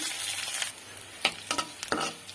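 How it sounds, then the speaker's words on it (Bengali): Whole spices (cinnamon, cardamom, bay leaf and black pepper) hit hot oil in a pan with onions already fried red, giving a steady close sizzle with a few sharp clinks and scrapes of stirring. "এই গরম মশলাগুলা তেলের উপরে দিয়ে ভেজে নিলে রান্নার সময় এক্সট্রা একটা সুন্দর গন্ধ আসবে"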